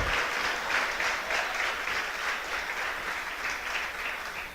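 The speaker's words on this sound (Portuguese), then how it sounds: "Você pode dar uma salva de palmas ao Senhor?" A church congregation claps together in steady, dense applause that carries on for several seconds at an even level with no talking.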